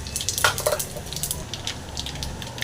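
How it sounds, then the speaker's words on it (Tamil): Mustard seeds crackle and pop in hot oil for carrot poriyal, with quick close bursts of spluttering over a soft sizzle that fade toward the end. "எண்ணெய் சூடாகிடுச்சு கடுகெல்லாம் போட்டுடலாங்க நல்லா பொறிக்கிட்டோம்"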